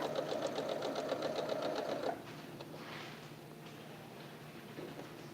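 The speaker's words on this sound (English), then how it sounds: "Let's go ahead and stitch these 2 together, and then we can make that little center block." A sewing machine stitching two quilt fabric pieces together with a scant quarter-inch seam, running in a fast steady rhythmic whir for about two seconds, then stopping and leaving a quieter hum.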